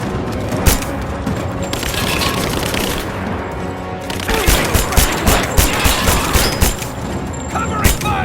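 Video game gunfire in Rise of the Tomb Raider, a dense fusillade of automatic shots and booms with rapid repeated cracks growing louder midway, loud and close under scattered speech.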